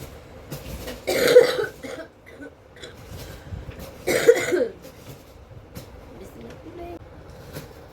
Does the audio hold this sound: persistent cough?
yes